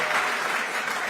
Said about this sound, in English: This applause doesn't come off my time